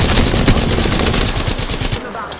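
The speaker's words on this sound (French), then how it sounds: "On me tire dessus." Rapid automatic gunfire from a firefight in Apex Legends, a loud sustained burst of repeated shots that cuts off abruptly near the end, leaving a faint tail.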